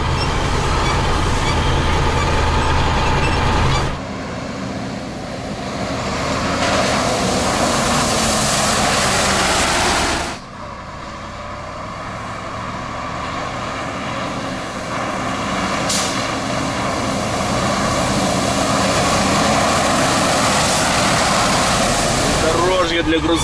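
A KAMAZ 6x6 truck engine drones steadily while driving off-road, a loud continuous rumble with shifts in tone as the load changes, and voices talk over it throughout.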